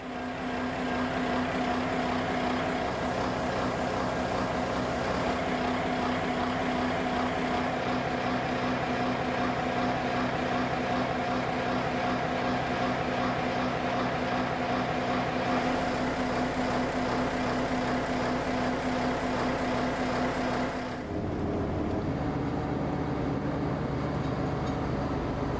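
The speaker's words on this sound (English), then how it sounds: "So we had the engine running now" A historic sailing ship's engine runs after a major refit, a steady droning hum with strong tonal throb that continues unbroken for the full length, shifting slightly in tone near the end.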